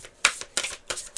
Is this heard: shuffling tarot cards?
yes